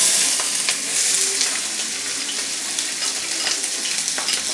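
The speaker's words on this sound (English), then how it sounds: "I will saute this in my pan. You're gonna get a little bit of sparkle there" Food sautéing in hot canola oil in a pan for a beans and corned beef stew gives a loud, steady close sizzle with scattered sharp crackles and pops throughout.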